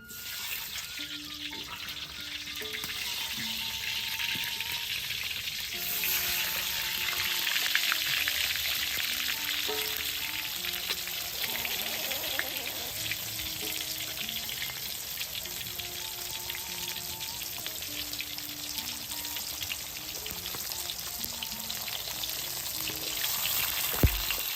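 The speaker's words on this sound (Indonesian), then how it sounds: "kita mau goreng tawes asin dulu" Salted tawes fish frying in a pan gives a steady, close sizzle and crackle throughout, with faint clinks of kitchen activity and occasional tones underneath.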